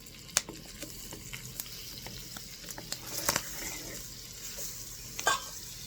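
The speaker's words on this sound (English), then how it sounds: "Now I'm going to add 6 tablespoons of salted butter." Six tablespoons of salted butter melting in a pan over medium heat crackle and hiss steadily, punctuated by occasional sharp pops and light scrapes, fairly close and without talk.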